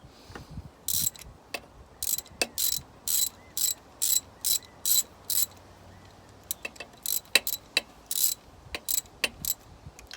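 Bursts of quick ratchet clicks come from a hand ratchet snugging exhaust manifold bolts on a Mini Cooper S R56, in short repeated strokes with brief pauses and a sharp tap or two between them, close up and fairly quiet.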